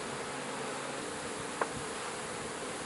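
Honey bees buzzing around an open hive while brood frames are lifted and traded during inspection, a steady, dense hum filling the whole stretch with one brief soft knock partway through.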